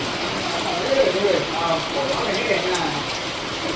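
Heavy evening rain pours steadily onto surfaces in a dense, even hiss with no letup, and a voice is faintly present beneath it.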